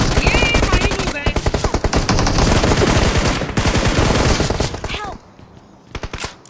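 Dense rapid automatic gunfire in the mobile battle royale game BGMI, loud and continuous for about five seconds before it cuts off, with voices talking over it.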